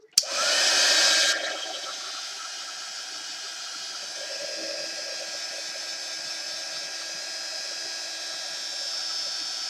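A dryer blasts loud, steady airflow over an art journal page for about a second, then a lower steady whir and hiss carry on alone for the rest of the time.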